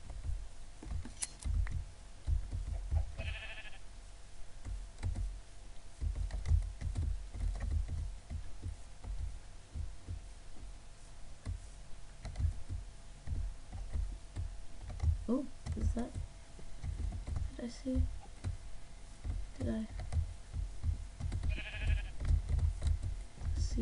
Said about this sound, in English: Ooh. Sheep. So many sheep.